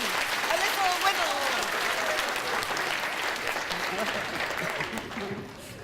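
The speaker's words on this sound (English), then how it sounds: "Right, hands over your head, please, please, clap your hands" A conference audience claps along, a dense patter of many hands that holds steady, with a few voices rising under the applause.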